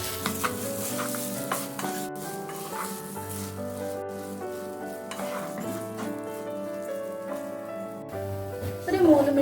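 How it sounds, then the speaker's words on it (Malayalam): Three cups of washed, drained jeerakasala rice roasting and being stirred in a pan for Kerala-style ghee rice, with soft scraping and sizzling running steadily beneath louder background music. "ഇത് നമുക്കൊരു 3 മിനിറ്റ് വരെ ഒന്ന് വറുത്തെടുക്കാം"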